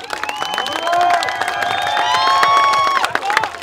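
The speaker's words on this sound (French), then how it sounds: "vous pouvez l'applaudir encore une fois, Nicolas Destin." A crowd cheers and whoops for an Olympic champion at a park event, sustained cheering with shouts and children's voices layered over scattered clapping, loud throughout before easing slightly at the end.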